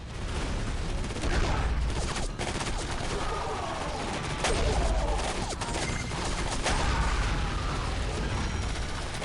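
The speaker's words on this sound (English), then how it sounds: "Man, these shotguns continue to be fucking worthless." Shotgun fire in the 2005 video game Area 51: loud, repeated gunshot blasts and mechanical clatter over a dense, continuous din of game combat, with someone talking intermittently.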